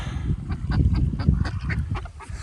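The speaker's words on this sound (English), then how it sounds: "Lots of Canada geese on this lake as well" Canada geese on a lake give repeated nasal honks in an overlapping jumble, loud and close, with a low rumbling background beneath the calls.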